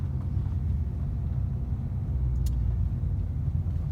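A car engine held at around 3000 rpm as the clutch is eased out during a driving lesson start, a steady low, dense rumble filling the cabin, constant in level with no speech.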